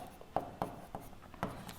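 Writing on a board during a geometry lesson on quadrilaterals comes through as faint, quiet strokes and taps, several short scratches in an uneven rhythm, with no talk.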